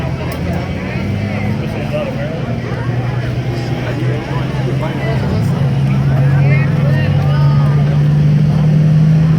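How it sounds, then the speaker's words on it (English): A 1974 Kenworth W900 semi truck pulling at the NTPA 2018 North Iowa Nationals truck pull in Rockwell, Iowa: a loud, continuous diesel engine drone that climbs in pitch as it strains, with crowd babble underneath. "Vermont, 1974 Kenworth W900."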